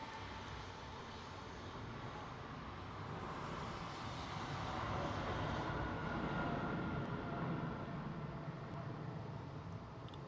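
Etihad Boeing 787 airliner at London Heathrow, a broad steady engine roar that swells toward the middle and stays loud and continuous throughout, with no voices.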